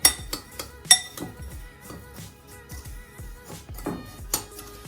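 Spoon clinking and scraping against a bowl while honey fried chicken mixture is stirred, a string of quick irregular clacks and knocks, close and fairly loud, with no talking.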